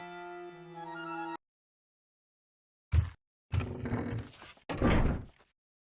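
A door is unlocked and opened in Onimusha Warlords: a sustained chime-like tone cuts to silence, then a sharp clunk and two louder scraping, grinding bursts follow.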